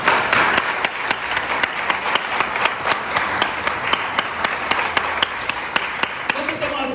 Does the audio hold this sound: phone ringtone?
no